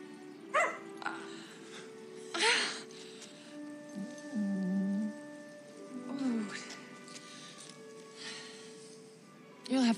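Dalmatian puppies yip, bark and whimper in short bursts over several seconds, close by, with people talking in between and a few higher whining cries.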